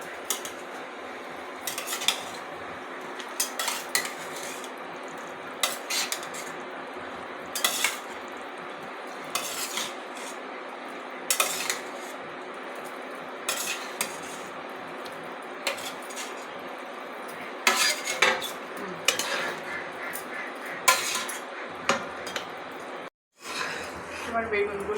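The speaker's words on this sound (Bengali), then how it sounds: "ঝোলটা ফুটে গেছে, আমি এবার বেগুনগুলোকে দিয়ে দিব।" Eggplants stirred into a boiling curry in a pot, a spoon scraping and clinking against metal in irregular bursts over a steady simmering bubble, with a voice talking throughout.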